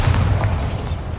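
A Bombarda blasting spell going off in the Hogwarts Legacy video game, a loud, deep booming blast with a sustained low rumble that slowly fades across the moment.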